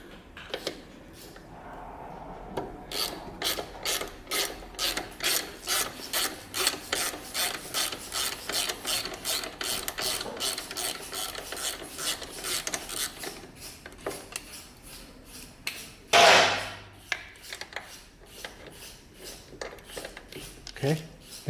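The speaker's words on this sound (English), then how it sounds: "Just loosen 2 bolts here up front." A ratchet clicks in steady close bursts while loosening bolts on a Harley Davidson Dyna, broken by metallic rubbing and a brief louder clatter near the end.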